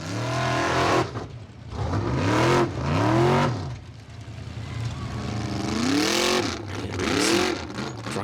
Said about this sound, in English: The car struggling with the same engine issues that plagued it in Hella.